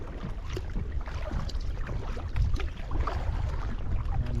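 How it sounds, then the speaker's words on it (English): A kayak paddles into a light sea breeze near the southern end of the Isle of Eigg, with a constant rush of wind and water and rhythmic splashes and knocks from the paddle close by. "A bit of a breeze picked up, paddling straight into it."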